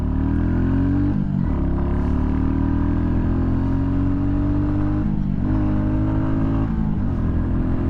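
A 2023 Royal Enfield Classic 350 single-cylinder motorcycle accelerating at full throttle, close engine drone rising in pitch through several gear shifts with brief dips between, loud and steady, with no one talking.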